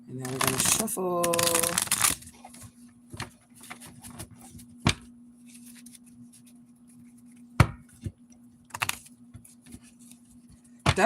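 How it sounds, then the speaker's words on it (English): A deck of cards being shuffled by hand: sparse, soft riffling clicks and slaps follow a short stretch of talk, set over a steady low electrical hum. "And now we're going to shuffle."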